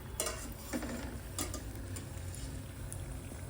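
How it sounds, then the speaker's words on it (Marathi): Kadhi simmering over a low gas flame gives a faint, quiet bed of gentle bubbling with a few soft ticks and pops scattered across it. "आपण इथे कढी ठेवलेली आहे बारीक गॅसवरती. ते उकाळी आलेली आहे त्याला"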